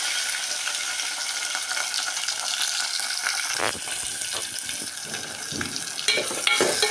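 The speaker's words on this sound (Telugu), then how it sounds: "ఇదిగోండి నూనె అయితే వేగిపోయింది. అయితే మొత్తం అన్నీ అయితే వేసుకుంటున్నాను." Onions, green chilies and tomatoes go into hot oil for mutton curry, a steady loud frying hiss that turns into bursts of crackling and spatula scrapes after they drop in.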